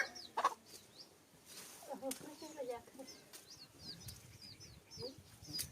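Chickens and a rooster cluck and squawk close by, with a brief wing flutter and scattered bird chirps over faint background chatter.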